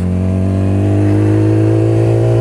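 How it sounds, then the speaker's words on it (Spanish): A Yamaha R6 sport motorcycle with a Scorpion exhaust idles steadily, its low, even engine drone loud and close, holding a constant note with no revving and no voices. "Escuchen ese sonido ralenti. Es simplemente hermoso. En ese caso tenemos un escape Scorpion."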